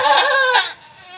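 A close, loud bleat from a goat in a difficult labour, a strained, wavering cry that breaks into two pulses before fading away.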